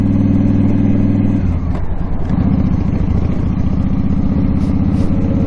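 Motorcycle engine running at low speed while riding slowly in traffic, a steady loud mid-low drone with a brief dip in tone partway through, close up and continuous with no talking.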